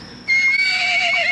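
A horse neighs loudly in the video game ARK Ragnarok, a single clear, shrill whinny that starts abruptly and trails off over about a second, heard alone without talk.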